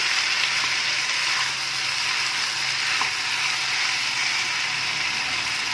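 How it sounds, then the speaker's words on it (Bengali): Dragon chicken is stirred in a hot pan after salt is added, with a loud, continuous sizzle of frying and a few faint scrapes of the utensil throughout. "দিয়ে জিনিসটাকে আবার একটু নাড়াচাড়া করে নিচ্ছি"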